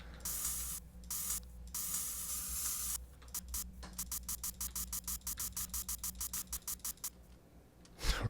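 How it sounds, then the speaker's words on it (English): In a video game, bug spray hisses from an aerosol can in long steady blasts that shift into a rapid string of short, evenly pulsed sprays, loud and close with brief pauses between them. "A little bit of bug spray."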